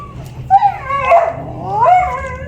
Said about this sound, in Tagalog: Gatungal yung aso.